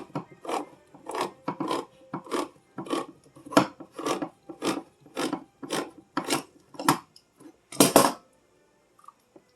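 Sloppy joe mix and ketchup stirred in a pan, a regular series of about a dozen rasping scrapes, each a short rhythmic stroke, close and fairly loud, with no talking.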